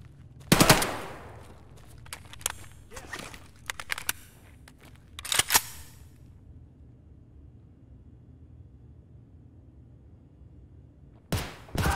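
Gunfire in the shooter game Escape from Tarkov: several sharp, loud bursts and scattered single shots crack out in the first six seconds, then near-silence before another close volley near the end.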